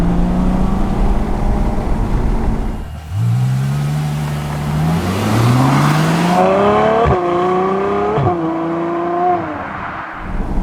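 A 740 bhp Ferrari F12 V12 engine revs hard and climbs through the gears up close, with rising tones broken by sharp gear changes, loud and alone.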